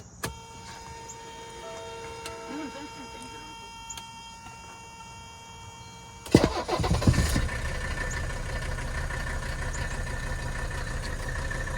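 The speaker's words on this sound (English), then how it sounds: "I'll start it up and let it run here for a little bit." After a quiet stretch with faint clicks, the turbo diesel engine of a 1984 Mercedes-Benz 300D W123 with vacuum leaks cranks and fires with a loud burst, then settles into a steady, close idle.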